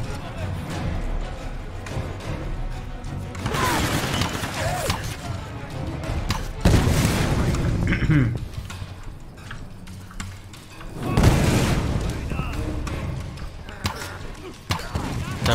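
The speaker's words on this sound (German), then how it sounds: "Ich sehe nicht, woher die Schüsse kommen." Gunfire and explosions in the video game Tomb Raider, fought through a slum: three heavy blasts burst out at intervals over a constant backdrop of combat noise, with someone talking throughout.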